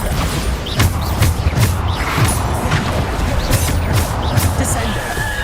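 Bombarda spell explosions in Hogwarts Legacy come as a string of repeated heavy crashes and booms, loud and close, with debris clatter and busy combat effects running throughout.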